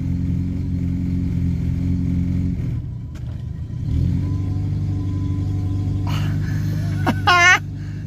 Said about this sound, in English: We've now got a fast idle that is working on the choke lever.